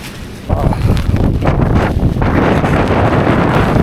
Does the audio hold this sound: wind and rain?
yes